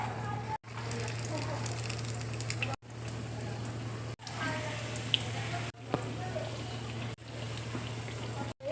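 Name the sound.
chicken resha kebabs dipped in egg, frying in oil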